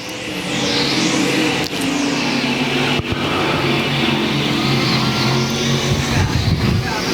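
Dirt track race cars at Devil's Bowl Speedway roar past in a loud, sustained engine drone with shifting pitch, steady throughout with a couple of brief dips, no talk audible over the noise.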